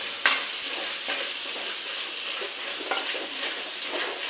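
Vegetables sautéing with chili powder in a clay pot for vegetable kuska give a steady close sizzle, with soft stirring scrapes and a sharp clink near the start.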